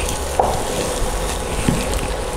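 Flour dough being stirred in a small pot as it cooks and stiffens, a steady soft scraping and squelching texture with a few brief thicker strokes, close and continuous with no talking.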